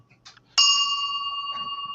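A bell fitted to a modified car gives one loud, bright ding that rings on and slowly fades, after a few faint clicks and rustles.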